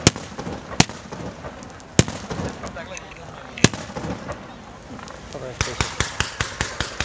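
A castell de focs fireworks display bursts overhead: loud, sharp explosions at irregular intervals, then a rapid rhythmic series of cracks near the end, with crowd chatter and voices underneath.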